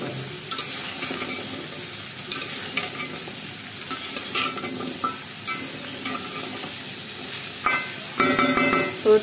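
Chopped bottle gourd frying in a pan with green chilies, a soft steady sizzle under repeated scraping and clinking strokes of a spatula stirring, a burst of clattering near the end.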